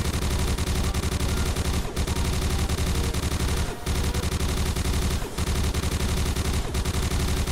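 Rapid, relentless gunfire in the VR shooter CyberThreat, a loud continuous stream of shots with only a few split-second gaps between long bursts.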